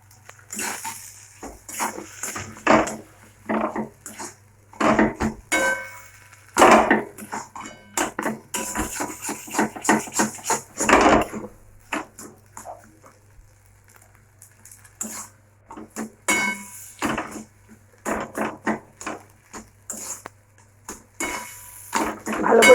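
A spoon clatters and scrapes against a pan while bharta is stirred and mixed, in irregular bursts with short quiet gaps between them.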